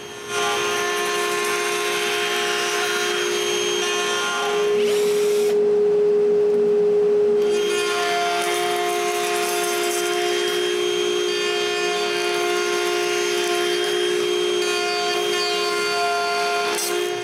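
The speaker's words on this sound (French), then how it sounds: "c'est le temps d'aller à toupie pour enlever du bois" A router trims wood from a handle screwed onto a template, giving a loud steady whine that runs throughout, with a brief change in tone near the middle.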